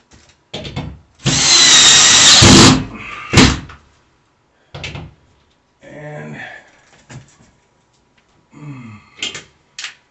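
A power drill driving screws into a TV wall mount, with a long loud burst followed by short spurts and pauses, and someone talking between them.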